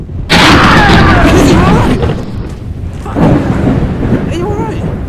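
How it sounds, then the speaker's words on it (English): A lightning strike sets off a sudden loud crack of thunder that rolls and rumbles, then a second heavy boom follows with rain noise in the background, all very close and loud. "He was struck by lightning."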